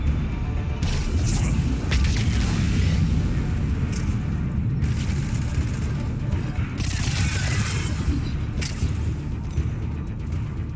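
Submachine gun fire in a Mass Effect 3 combat zone: dense, continuous rattling bursts with booming impacts and crashes layered underneath, loud and sustained throughout, with a few sharper bursts standing out.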